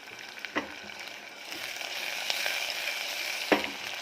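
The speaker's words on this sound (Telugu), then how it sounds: "పోపు ఆవాలు వేసేసుకొని ఆనియన్ మిర్చి వేసుకున్నా" Mustard seeds, onion and green chili sizzle and crackle in hot oil in a pan, a steady close frying hiss with a few sharp pops, no talking.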